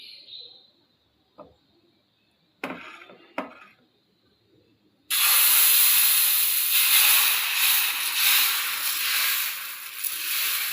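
Ragi dosa batter hitting a hot pan: a few quiet clicks and taps, then a sudden loud, steady hiss of sizzling that continues to the end.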